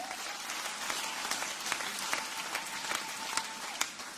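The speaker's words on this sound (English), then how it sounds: "clap for Master Jesus" A church congregation claps together at a service, giving a steady, fairly distant wash of applause with some sharper individual claps standing out over about four seconds.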